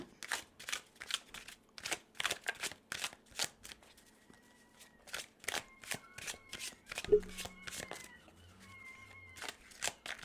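Tarot cards are shuffled by hand in quick repeated riffling bursts, each a crisp papery flutter, close and moderately soft, with faint steady tones humming in the background.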